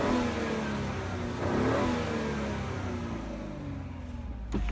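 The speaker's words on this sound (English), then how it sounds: "wind the window down now so you can kind of hear the engine sound" A Vauxhall Grandland X 1.2 turbo engine revs up and accelerates, its pitch rising steadily, heard close and fairly loud from inside the car with the window down and no one speaking.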